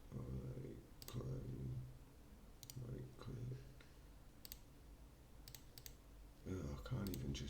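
A computer mouse clicking during live bitcoin chart analysis, a handful of sharp, isolated clicks spaced unevenly, close and crisp, with quiet murmured speech in between.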